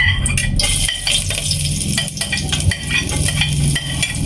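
Onions sautéing in a little oil in a pan for ginataang tinapa, a steady sizzle with repeated scraping and clinking as a utensil stirs them, close and continuous with no talk.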